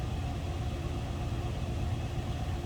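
A 1964 Buick LeSabre four-door hardtop with its engine running, a steady low rumbling idle that holds even and continuous without revving.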